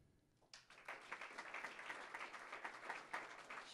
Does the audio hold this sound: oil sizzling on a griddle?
no